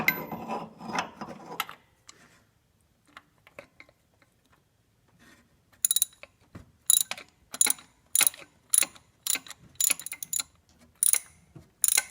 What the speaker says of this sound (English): we'll use the 3/4 deep socket to finish it off